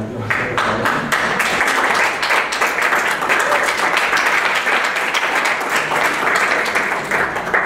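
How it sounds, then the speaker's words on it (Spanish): Applause for an artist from an audience at a talk event, a loud, dense round of clapping that starts quickly and holds steady for several seconds before easing slightly at the end. "un pequeño aplauso, por favor."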